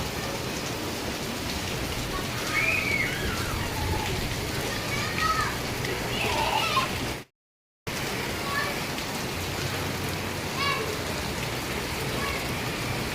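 Steady rain falls over a neighborhood where children are out bathing in it, a constant dense hiss of drops hitting surfaces that lasts throughout, with a brief cut of silence partway and faint distant voices underneath.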